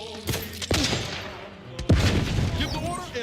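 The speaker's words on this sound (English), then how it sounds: "Explosion imminent." Gunfire and explosions ring out in the video game The Outer Worlds 2: two sharp, loud blasts early on, then another heavy boom followed by rattling bursts of shots.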